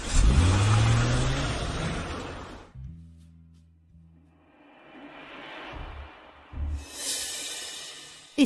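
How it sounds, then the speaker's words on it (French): A car is driven and parked: a loud engine roar at first, then a low idling rumble that fades, followed by softer rushing bursts and a sharp click at the end. "Je vais garer la voiture d'abord."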